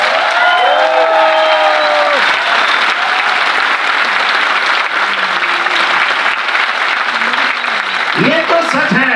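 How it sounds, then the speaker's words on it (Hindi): A large audience on a cruise-ship event applauds loudly and steadily, a dense wash of clapping that carries on throughout while voices call out over it and a speaker talks near the end. "रॉयल इंडिया वेकेशन और अविनाश जी के लिए भी ताली बजानी चाहिए।"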